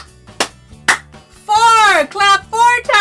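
Hands clap in a children's counting exercise: two sharp, separate claps ring out close and loud, then a sung voice follows.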